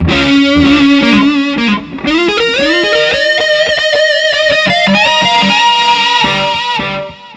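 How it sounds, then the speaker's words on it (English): Jazz fusion electric guitar run through chorus, delay and reverb rings out loud and alone, a bright held note giving way to a quick run of lines with shimmering, echoing tails. "he would add the Wales delay, so you get this"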